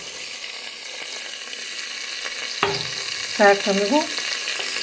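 Onions frying in a pan of melted fat, a steady sizzle throughout with a clinking stir around the middle and a few brief tonal sounds near the end.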